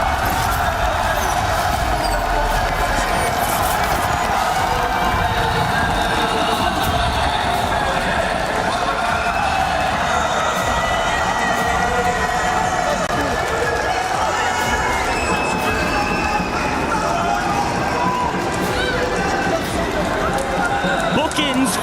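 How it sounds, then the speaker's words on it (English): A home crowd cheers and roars continuously at a Call of Duty esports watch party, loud dense crowd noise filling the whole stretch with a commentator talking over it. "you can hear the crowd"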